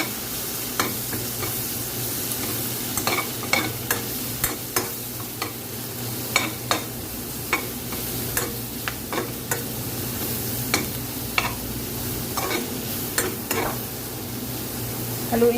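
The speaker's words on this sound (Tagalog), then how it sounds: "Haluin lang natin hanggang mag-golden brown" Chopped onion sizzles steadily in a hot pan for a pasta dish, with a sharp spoon scrape or tap against the pan every second or so as it is stirred, close and clear with no talking.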